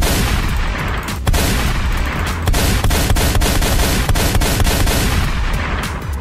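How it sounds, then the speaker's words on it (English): Rapid semi-automatic gunfire from a weapon in the game SpawnPK, loud and close, with sharp repeated shots crackling over a dense, noisy background of other game sounds, the bursts continuing nearly nonstop. "That's probably the weakest semi-automatic you ever heard"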